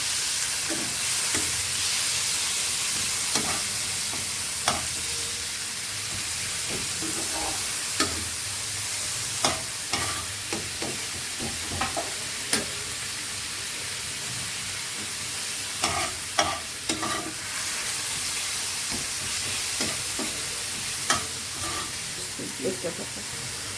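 Grated onion and a few pieces of garlic fry in a pan for a rui fish kaliya, giving a steady close sizzle broken by frequent clinks and scrapes of a stirring spoon throughout.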